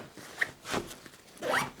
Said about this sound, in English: you kind of push the stuff down while you zipper it